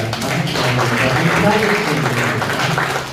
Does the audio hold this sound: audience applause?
yes